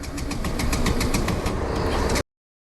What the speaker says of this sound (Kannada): ನೋಡಿ ಗಾಡಿ ಸ್ಟಾರ್ಟ್ ಆಗ್ತಾ ಇಲ್ಲ